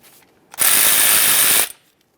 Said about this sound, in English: We'll start by loosening our top bolt and leaving it in a couple threads.